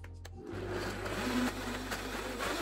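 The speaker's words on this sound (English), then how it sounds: "It really doesn't take long with these high-powered blenders." A high-powered blender whirs up to full speed after a brief low start, churning banana muffin batter ingredients in a steady loud roar that holds to the end, with no voices.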